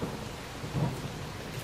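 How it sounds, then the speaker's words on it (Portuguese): Steady rain hisses in the video game The Forest while a low roll of thunder swells briefly in the middle, the downpour continuous and moderately quiet with no talking. "Eita, chuva."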